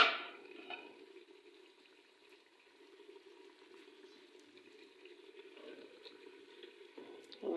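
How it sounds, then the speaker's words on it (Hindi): Mutton shorba, goat meat soup, simmering in a cooking pot, giving a steady low bubbling and gentle hiss that holds close and even throughout, without any talking. "मैं आपको पकते हुए हांडी दिखा रही हूँ।"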